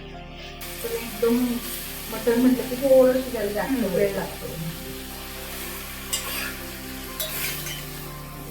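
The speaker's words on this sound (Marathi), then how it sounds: "एक दोन मिनिट आपण परतून घेऊया हाय फ्लेमवर" Mutton chops sautéed and stirred in a pan over high flame, with continuous sizzling and scraping under a woman's speech.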